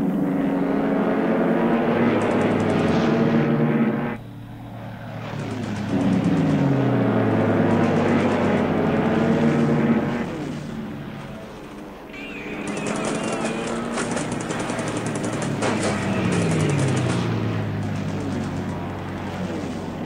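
Propeller aircraft engines droning and swelling in a War in the Pacific battle, with escort fighters and bombers passing in loud waves that fade and return; no clear gunfire stands out.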